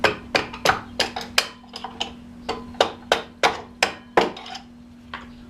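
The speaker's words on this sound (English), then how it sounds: "holding the weight of the wheel with the bottom of my feet while I tap the axle out" Sharp metallic hammer taps, about a dozen in an irregular steady rhythm, drive the axle out of a Kawasaki Ninja motorcycle's front wheel, close and loud over a faint hum.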